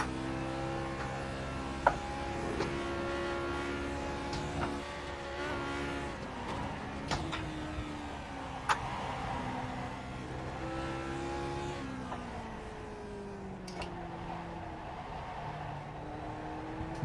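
A Lotus 49 race car engine in the iRacing sim at the Nürburgring drones and revs continuously, pitch rising and falling through gear changes, with a few sharp clicks and brief spikes along the way and no speech.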